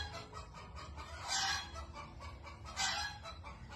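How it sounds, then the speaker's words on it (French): Hens cluck nearby in two short bursts of clucking, over a low continuous background hum. "Oh, les poules là."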